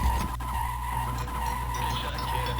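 Tires skid steadily as a stolen car drives in the Duke Nukem 3D game, with a constant engine drone and a high whine running under the screech for nearly three seconds, with no talking.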